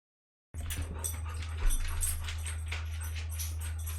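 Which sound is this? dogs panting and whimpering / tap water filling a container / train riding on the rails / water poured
dogs panting and whimpering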